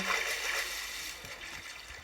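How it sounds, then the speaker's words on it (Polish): Flowing water in Minecraft pours and trickles in a steady hiss, with a faint voice briefly underneath. "spływaj woda, spływa woda"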